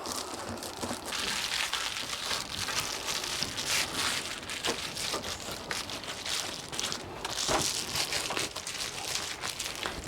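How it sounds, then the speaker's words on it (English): Outdoor breeze at a summer spot with a view, blustery and shifting as rain approaches, a steady broadband rushing and rustling that swells and eases over the whole stretch with no talk. "Can you hear the breeze?"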